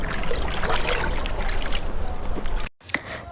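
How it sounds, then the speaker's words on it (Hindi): A man diving into a cold river and swimming, with steady broadband water splashing and churning close by that cuts off abruptly, followed by a brief softer splash. "ये कहकर जग्गू नदी के ठंडे पानी में डुबकी मारने लगा और तैरने लगा।"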